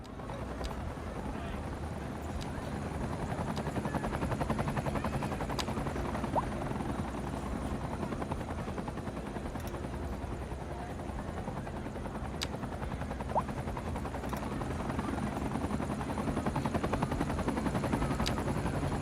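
A helicopter in the city-building game Cities Skylines 2 gives a steady, continuous rotor drone that runs throughout, with sharp clicks over it.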